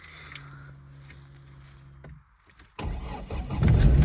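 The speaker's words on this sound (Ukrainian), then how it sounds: "Вижимаю щеплення і шукаю кнопку старт-стоп." A Renault Megane 2 is started with its start-stop button: a faint electronic hum and click, a short pause, then the engine catches and settles into a loud, rough idle close up.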